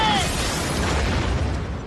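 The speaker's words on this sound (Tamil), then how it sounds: "இது வெடிச்சு செதற போகுது." A cartoon explosion from an animated Johnny Test tree house scene, a loud sustained blast of rumbling, crackling noise that opens with a brief whistling tone and slowly fades.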